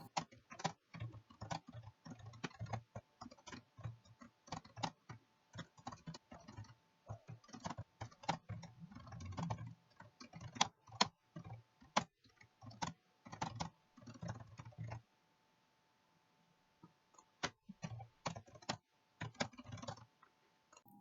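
Soft keyboard typing continues for a long stretch, irregular bursts of quiet key clicks at close range, a pause of a few seconds, then more scattered keystrokes while filling in microplankton sampling details.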